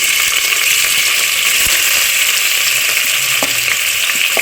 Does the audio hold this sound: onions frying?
yes